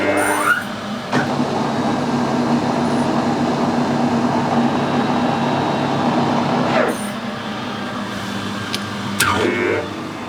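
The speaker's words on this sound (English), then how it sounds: "First the lathe." A lathe screw-cutting a thread gives a loud, steady mechanical drone and whir, broken by a few abrupt clunks and squealing changes in pitch, close and without talk.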